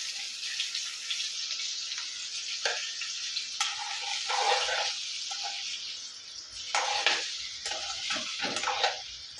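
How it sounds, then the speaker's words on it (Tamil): Four boiled eggs frying in hot oil in a pan, giving a steady close sizzle with occasional stirring scrapes and clinks and no voices. "இதில் ஒரு 4 முட்டையை நான் வேக வச்சு எடுத்து வச்சுருக்கேன். அதை நம்ம இதில் ஃப்ரை பண்ணி எடுத்துக்கலாம்."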